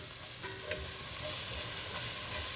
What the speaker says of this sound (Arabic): الكفته بتتحمر قدامكم